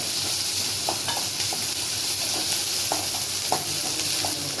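Onion and curry leaves sautéing in hot oil for an okra stir-fry, a steady close sizzle broken by intermittent scraping clicks of a spoon stirring, with no voices.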